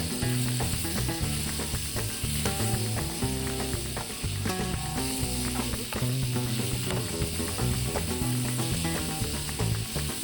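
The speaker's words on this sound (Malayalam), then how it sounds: "അത് ആ മൂപ്പിച്ച മുളകിലേക്ക് ഇട്ട് നമുക്കൊന്ന് വഴറ്റാം." Cleaned medium prawns sautéed in a pan with fried chillies, with a loud, continuous dense sizzle and rattling stirring noises throughout, alone without talk.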